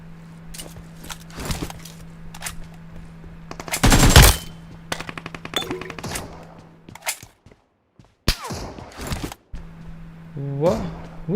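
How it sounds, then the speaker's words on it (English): Bursts of machine-gun fire in the PUBG Mobile video game, sharp rapid volleys of varying loudness with footsteps and gaps between, while people talk over the action. "Who's shooting to me?"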